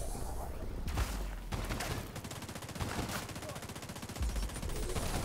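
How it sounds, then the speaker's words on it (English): Dense, rapid gunfire from NPCs in the video game The Division rattles almost continuously, with automatic bursts and louder single shots overlapping throughout. "NPCs are shooting him"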